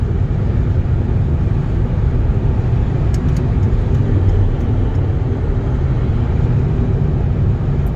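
A 2011 Volvo C30 R with a manual gearbox cruises at highway speed, a loud, steady low road and engine drone from inside the cabin with constant wind rush and no talking.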